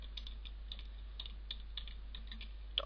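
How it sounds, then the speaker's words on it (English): A computer keyboard is tapped in quick, light, irregular keystrokes while a file name is typed, faint and close, over a steady low hum and with no one talking. "type in the file name as preset underscore whatever folder you're in"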